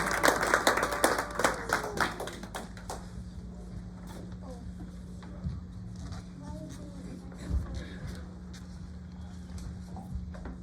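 A church congregation gives a short burst of clapping for the music group, fading after a couple of seconds into room murmur and shuffling, with a voice speaking nearby.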